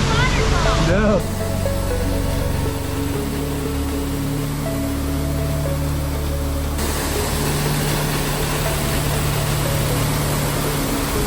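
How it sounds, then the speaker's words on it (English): A waterfall on a Sequoia hiking trail sends out a loud, continuous broadband roar of rushing water, with people's voices briefly audible over it near the start. "That's not even a major waterfall!"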